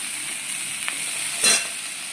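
Vegetable stems and potato frying in a little oil with tomato and salt give a steady, close sizzle, broken once by a brief clatter of stirring partway through.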